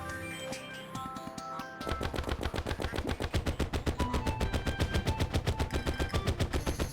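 A gun firing ammunition in the video game Terraria, a long burst of rapid, evenly spaced loud shots that starts abruptly after a quieter moment and keeps hammering steadily.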